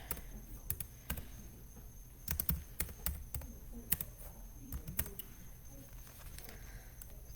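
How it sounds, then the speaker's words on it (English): Scattered computer keyboard clicks from one-handed typing, in irregular bursts, slow and uneven as if pecking keys, fairly quiet against a low background hum. "I'm taking forever typing with one hand here."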